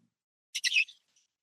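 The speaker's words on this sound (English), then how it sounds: "this is Brandy, military macaw" Brandy, a military macaw, lets out one short, harsh squawk of about half a second, close by but faint, in otherwise quiet surroundings.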